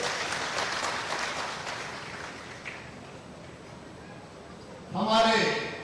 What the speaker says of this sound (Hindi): एक बार ताली बजा के उनका स्वागत कीजिए।